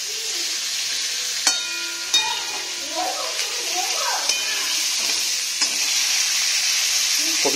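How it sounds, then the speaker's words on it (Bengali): Cauliflower florets fry for khichuri in a pan at a village Saraswati puja, giving a steady bright sizzle with a few sharp metallic clinks of stirring; a faint voice is briefly heard in the background. "আর এটা আমি খিচুড়ির জন্য কপিটা ভাজছি, ফুলকপিটা ভালো করে ভাজছি।"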